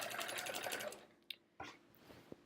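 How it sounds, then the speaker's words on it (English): A sewing machine stitches down the edge of a quilt in a brief, faint whirring burst that stops, followed by a few soft clicks and handling sounds. "First we'll stitch this edge down"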